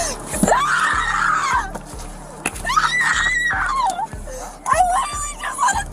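A woman lets out repeated loud, shrill screams in short bursts during a heated public confrontation, with other raised voices close by.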